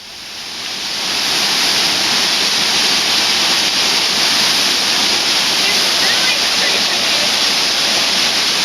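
A waterfall in Cambodia, heard from inside the falling water, swells in within the first second into a loud, enveloping, continuous rushing roar that stays steady throughout.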